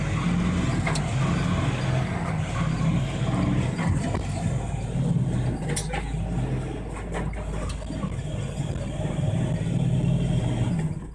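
A truck pulls away on a road, caught by a dashcam as a steady, loud rumble of engine and road noise that continues throughout with a few faint clicks.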